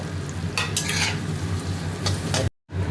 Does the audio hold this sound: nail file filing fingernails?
no